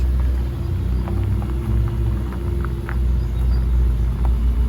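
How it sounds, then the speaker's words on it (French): A Rosso Corsa red sports car's V8 engine rumbles at a low, steady idle close by, a deep continuous drone with faint ticks and murmurs over it, no one speaking. "Avec le bon son du V8"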